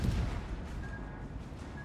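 Naval guns boom in the World of Warships video game, a dense low rumble of cannon fire that swells at the start and settles into a steady, moderately loud roll with no voices.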